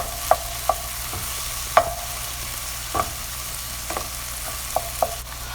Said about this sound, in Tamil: கட் பண்ண 2 தக்காளி போட்டு தக்காளியும் நல்லா வதக்கிடலாம்.